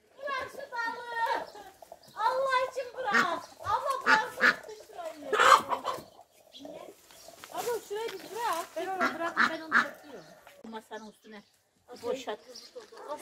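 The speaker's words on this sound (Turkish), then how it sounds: "Tavuklar yiyor." Chickens cluck and squawk while eating outdoors, their calls close and intermittent, mixed with people talking nearby.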